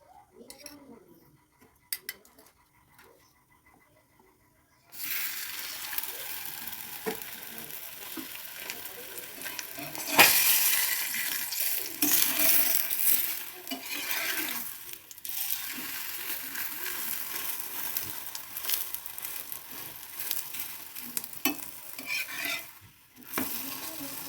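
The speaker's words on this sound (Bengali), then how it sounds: "আমি গ্যাসের ওপর একটা চাটু বসিয়ে দিয়েছি। ওটা গরম হয়ে গেছে। ওতে এবার তেল দেবো।" Puffed-rice paratha frying in oil on a hot iron tawa, a steady close sizzle with scraping and clinking of a spatula starting after a few quiet seconds, louder bursts midway.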